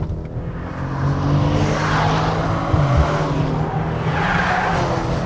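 A 2018 Maserati Ghibli S Q4 with twin-turbo power accelerates hard in sport mode, its loud engine drone building steadily and continuously, with a brief shift-like dip midway and no talking over it.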